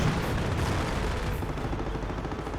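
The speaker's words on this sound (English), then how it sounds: "Where was that quad firing?" A quad anti-aircraft gun in Company of Heroes fires continuously, a dense, rumbling barrage of rapid shots that holds a loud, steady level throughout with no speech.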